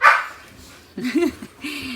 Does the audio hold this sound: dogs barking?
yes